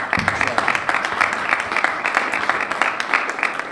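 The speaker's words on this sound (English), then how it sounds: "You should all give yourselves a round of applause to be here" An audience at a STEM and innovation welcome reception gives itself a round of applause, a steady wash of many hands clapping that stays loud and even from start to finish.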